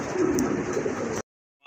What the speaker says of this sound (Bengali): দেখেন খুবই অস্থির লেভেলের এক জোড়া লাহোরি কবুতর, সিলভার কালার লাহোরি